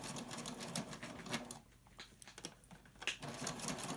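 A sewing machine runs a close stitch along the edge of a fabric face mask. Fast rhythmic needle ticking is close and moderately loud, with a brief pause midway before the stitching resumes without any talk.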